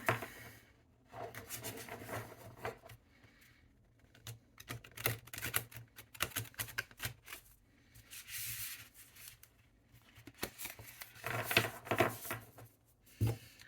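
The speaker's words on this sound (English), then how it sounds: "Let me shuffle." Soft, irregular riffling and slapping of a tarot deck being shuffled, close and quiet, coming in bursts with brief pauses between.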